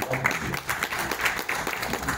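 Audience applause during a public speech on caste: a dense, steady wash of many hands clapping fills the clip at moderate loudness, with irregular swells and a voice faintly underneath.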